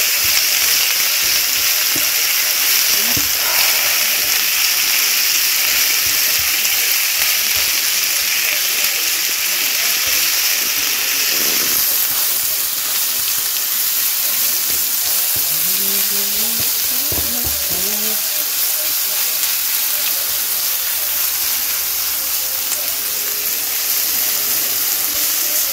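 Fennel and fatty pancetta fry in heated oil, a loud, dense sizzling hiss running throughout with occasional stirring scrapes and brief muffled tones partway through.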